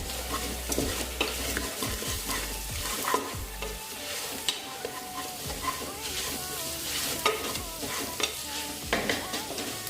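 Cumin powder fries in a pan while being stirred, with a continuous close sizzle broken by repeated scraping and clacking strokes of a spoon against the pan.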